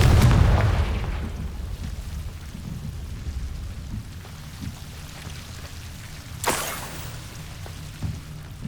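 A Confringo blasting spell exploding in Hogwarts Legacy, with a deep booming burst at the start that rumbles and fades, then a sharper crack and a smaller thump later over a quiet ambient background.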